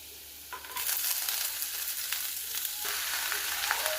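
Chopped onions and shallots hit a hot pan with ginger and garlic for a beef curry, setting off a loud, close sizzle. The frying crackles steadily alongside occasional stirring scrapes.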